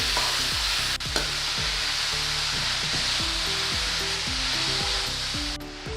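Grated radish filling being stirred in a hot frying pan, a continuous sizzle with repeated scraping strokes of a spoon against the pan, close and steady with no talking.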